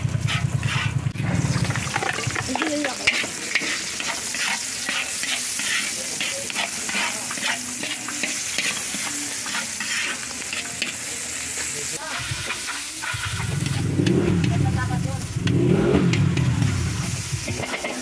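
Garlic and pork intestine frying in oil in a pan for adobong isaw, a steady close sizzle that swells louder toward the end, with stirring and faint background noise throughout.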